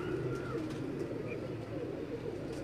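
Pigeons kept on a rooftop coo faintly through a steady outdoor background hum, soft and somewhat distant, with no voices.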